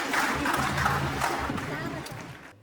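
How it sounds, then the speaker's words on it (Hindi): An audience at a poetry gathering claps to welcome a poet. The dense, close applause fades slightly, then cuts off abruptly. "एक बार जोरदार ताली बजाइए आप, उनका स्वागत करिए आप"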